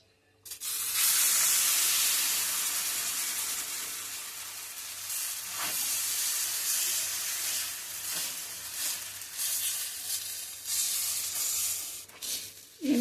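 A sweet flour-batter pooda fries on a hot tava griddle, hissing loudly in a long, steady sizzle that eases slightly, with brief bursts and a clatter near the end.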